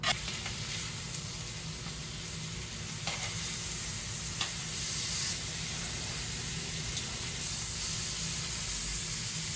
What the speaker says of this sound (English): I'm going to get a really good sear on every side of the steak